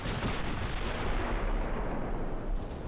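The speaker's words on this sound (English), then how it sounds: "15-inch shells making a pretty big mess" Heavy naval guns firing 15-inch shells in a British classic campaign warship game, a dense, continuous rumble of booming blasts and explosions that holds steady and loud with no pause throughout.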